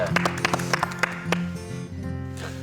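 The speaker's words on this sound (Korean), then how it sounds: "우리 박수 한번 쳐드리죠" A small studio audience gives a short burst of scattered hand claps for a guest professor on a television talk program; the claps thin out and a voice continues afterwards.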